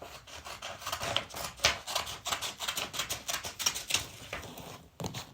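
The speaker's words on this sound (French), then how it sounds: "En coupant cette feuille" Dense scratchy rasping of paper being cut, a continuous run of crisp snips and rustles lasting several seconds, close and fairly quiet.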